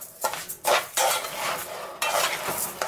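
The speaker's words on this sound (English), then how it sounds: "you're going to mix it up so that all the rice is coated" Rice coated in canola oil being stirred in a pot on a gas stove, with repeated scraping strokes of a utensil and grains rustling in bursts. Close and fairly loud, with no talking.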